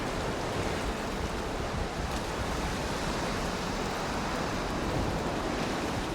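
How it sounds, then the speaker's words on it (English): Soft water laps steadily against a wooden dock in the Valheim game world, a continuous wash with a gentle surf-like hiss and no distinct breaks, heard alone at an even level. "the soft lap of water against your dock"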